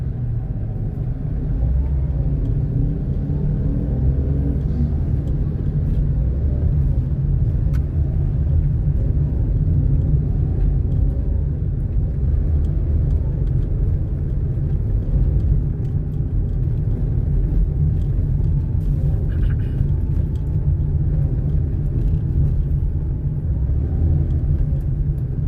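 Heavy road traffic on EDSA produces a constant low rumble of idling and crawling engines, steady and moderately loud for the whole stretch, with no speech.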